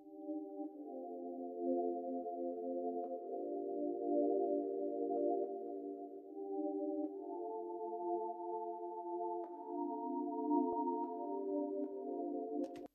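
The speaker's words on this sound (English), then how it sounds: "I've just added this cyan pad just to fill out that extra space in the back." Soft synth pad sustains thick chords doubled an octave up, a smooth continuous wash that shifts chord midway, played alone and fairly quiet.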